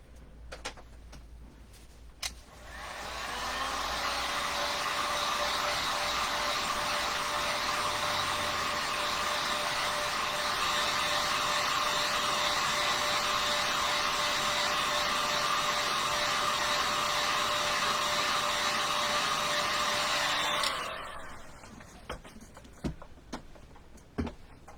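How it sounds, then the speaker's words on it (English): A hair dryer blows on a snowman craft, starting up after a couple of seconds and roaring in a loud, steady drone at close range for about eighteen seconds before switching off, with light clicks and handling noises around it. "I'm going to hit this with the dryer."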